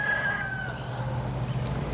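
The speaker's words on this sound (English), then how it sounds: "the neighbor's chickens back there" Backyard chickens next door, some distance away, give a few short clucks and a faint crow over steady outdoor background noise, with no talking.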